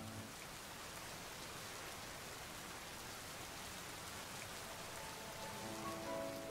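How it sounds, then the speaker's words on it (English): Steady rain falls in the video game Pokemon Violet, a soft, even hiss of drops that stays continuous and faint throughout with no voices. "Okay, sure, maybe it'll stop raining."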